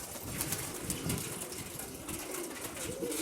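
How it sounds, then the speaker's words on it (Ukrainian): Pigeons coo in a soft, low murmur against a steady, noisy background of strong wind. "А це Почаковський голуб"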